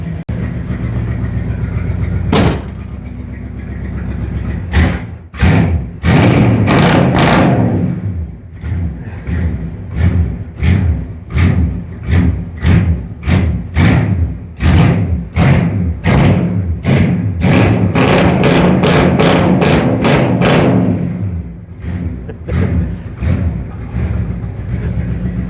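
Dodge Dart engine running with the hood down, revved repeatedly in loud rapid pulses over a steady rumbling idle, close to the car with some wind buffeting.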